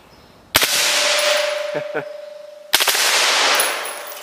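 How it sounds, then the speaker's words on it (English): Two loud full-auto bursts from a suppressed M16 fired outdoors at a black propane tank, each a sharp rapid string of shots with a long ringing decay and metallic hits, separated by a brief pause. "Let's do a little burst on that black propane tank there."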